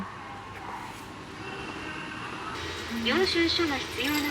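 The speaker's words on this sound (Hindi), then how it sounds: "अब मैं आ चुकी हूँ टोक्यो मेट्रो स्टेशन पे" A Tokyo metro train moves through the station with rumbling wheels and a rising squeal near the end, set against steady platform ambience and faint background chatter.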